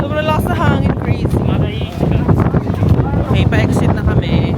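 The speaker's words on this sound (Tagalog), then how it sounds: "Sobrang lakas na hangin," Strong wind in Tokyo, Japan rushes and buffets the microphone with a loud, steady roar while several people chat over it throughout.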